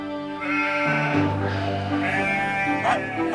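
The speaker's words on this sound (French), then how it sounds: "Venez les moutons!" Sheep bleat loudly and repeatedly, drawn-out wavering calls overlapping one another close by, with a person's voice briefly mixed in.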